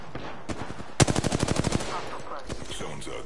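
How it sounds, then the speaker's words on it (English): Rapid automatic gunfire erupts in a video game, a loud close burst of about a dozen shots after a couple of single cracks, with further scattered shots trailing off. "I am taking fire."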